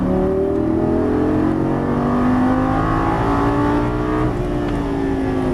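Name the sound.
Lamborghini Gallardo LP550 accelerating out of a turn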